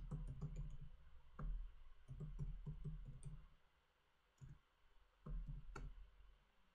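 Bursts of quick keyboard clicks come in short runs separated by pauses, close and fairly quiet.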